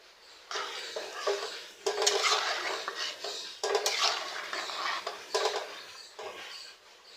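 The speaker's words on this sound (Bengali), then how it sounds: "এগুলো দিয়ে ভালোভাবে নেড়ে নেব" A metal spoon scrapes and clatters against a pan while muri ghonto, a Bangladeshi puffed rice dish, is stirred, in several bursts of close, busy scraping with short pauses between.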